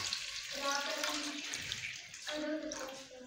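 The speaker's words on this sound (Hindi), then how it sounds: "तो ये पानी का एक कोला डाल दिया है" Water pours into a cooking pot for potato rice in a home kitchen, a steady gushing stream that pauses once and resumes, fairly close and continuous.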